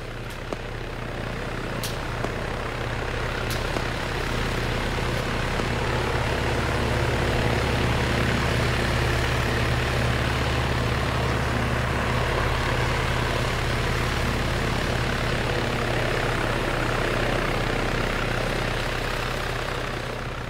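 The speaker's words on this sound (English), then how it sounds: "Get to a secure position for heli evac." Helicopter in the Arma 3 military video game during an evacuation, a steady loud rotor and engine drone that runs continuously throughout with no talk.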